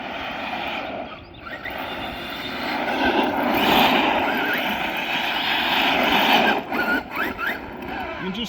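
A Redcat Rampage XB-E 1/5 scale RC car makes a speed pass down a street, a steady broadband engine roar swelling as it comes nearer and then breaking into choppy bursts as it moves off.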